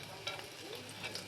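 Roll samosas frying in a pan of hot oil give a steady, soft sizzle with faint crackles and a few brighter pops, heard up close with no talking.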